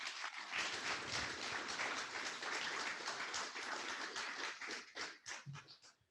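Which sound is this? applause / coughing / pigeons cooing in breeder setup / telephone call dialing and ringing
applause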